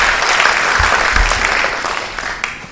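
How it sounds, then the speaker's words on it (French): Audience applause at a youth human-rights debate final in Guinea, a steady dense wash of clapping that holds loud throughout and tapers slightly near the end. "Sous vos applaudissements s'il vous plaît."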